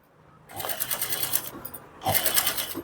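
An electric sewing machine runs a long stitch along a saree fall in two quick bursts of rapid, close mechanical whirring, separated by a short pause.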